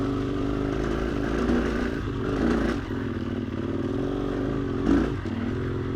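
A KTM motorcycle rides over lumpy, uneven ground, its engine droning steadily and loud throughout, with rattling clatter and occasional surges as the bike bounces along.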